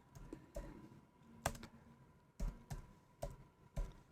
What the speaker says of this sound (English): let's type in nano